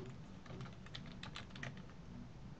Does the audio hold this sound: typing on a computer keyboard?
yes